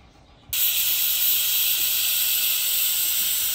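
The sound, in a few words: pressure cooker whistling steam while cooking mutton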